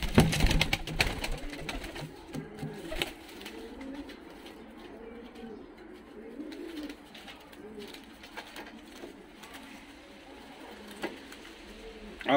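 Fighting pigeons in a loft in Tbilisi, Georgia, coo softly and repeatedly at close range, the throaty calls rising and falling in overlapping bursts over faint background clatter.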